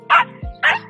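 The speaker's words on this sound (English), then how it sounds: "No barking." Two short, loud barks from a nearby pet dog, Coco or Rex, sound close together on a walk, with a low yip or whimper slipping in between them.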